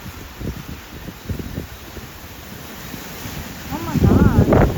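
Strong wind blows outdoors during a rainstorm, a rough gusting roar buffeting the microphone that swells louder near the end, with a voice briefly heard in the background.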